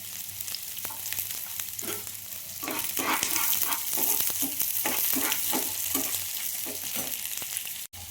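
Loud, continuous sizzling of onions frying in a pan, with rhythmic stirring scrapes repeating through the middle.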